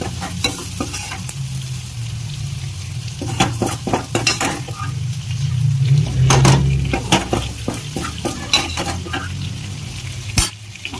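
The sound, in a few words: stirring tinda (round gourd) curry mixed with tempering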